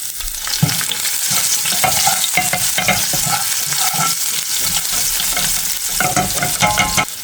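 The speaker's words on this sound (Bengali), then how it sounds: "দিয়ে দিচ্ছি পেঁয়াজ কুচি," Chopped onions and whole cumin sizzle loudly in hot oil in a pan while being stirred. The frying is close, continuous and steady, with scraping stir strokes throughout and no talking.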